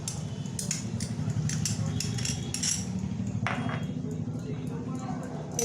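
Spoon clinks and scrapes against a pan as onion paste is stirred into fish for a Bengali tengra macher jhal, a series of light metallic taps over a steady low hum, with voices murmuring underneath.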